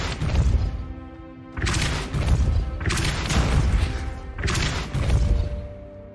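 A Depulso spell is cast again and again in Hogwarts Legacy, giving four or five loud, close blasts with crashing, booming impacts separated by brief lulls.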